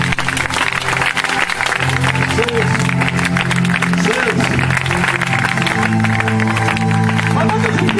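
A church congregation applauds and cheers for Jesus, with sustained loud clapping and crowd noise filling the space while voices carry over it.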